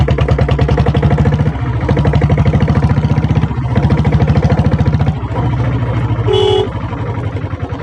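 Diesel Bullet motorcycle with its engine thudding steadily at close range, a short horn toot sounding briefly near the end over the idle.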